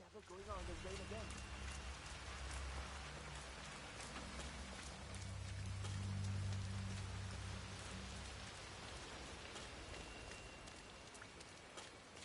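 Steady video game rain patters thickly on surfaces, a constant close hiss of drops over a low rumbling undertone, with faint chirping tones briefly near the start.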